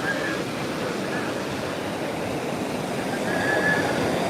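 Rushing meltwater from snow pours in a steady, loud roar with no break, heard alongside a train ride through the Colorado mountains.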